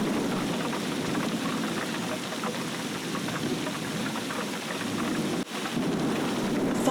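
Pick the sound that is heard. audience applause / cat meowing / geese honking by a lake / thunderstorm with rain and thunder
thunderstorm with rain and thunder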